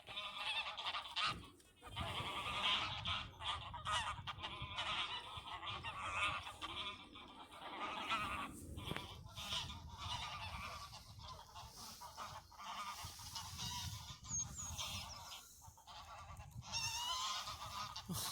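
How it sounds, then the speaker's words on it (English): A large flock of territorial geese honks constantly in a park, dense overlapping calls near and far, faint in level and with no talking over them. "And the geese, look how noisy they are today."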